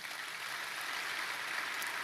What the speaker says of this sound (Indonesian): Yang setuju tepuk tangan yang keras.